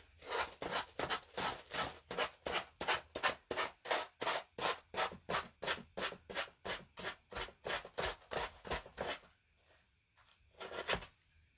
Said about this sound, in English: Let's take our sanding block.